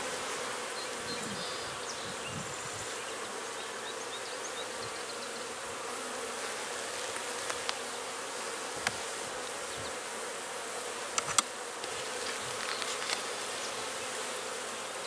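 Honeybees buzz continuously and fairly softly around an open hive during an inspection of a honey super and brood box, with a few brief clicks and knocks of handling over the steady hum.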